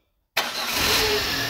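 A car engine starts on the first try after long being disassembled, firing abruptly out of silence into a loud, close, steady idle.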